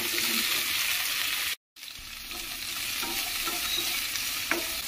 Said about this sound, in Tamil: இந்த வெண்டைக்காவை வதக்கிக்கலாம்